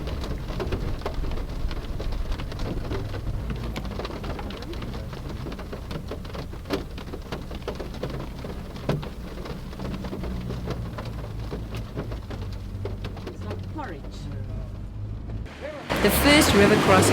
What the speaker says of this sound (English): with the mud driving and rain continuing for much of the day